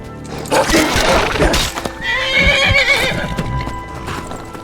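A horse in the game Skyrim whinnies loudly and clip-clops at a gallop, with a crash of breaking sounds mixed in, the hoofbeats and neighs close and prominent.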